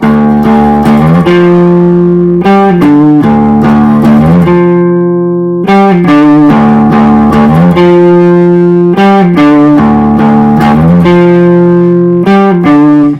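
A loud, distorted electric guitar plays the fast repeating riff from a song, with sharp rhythmic hits and ringing notes, no voices present.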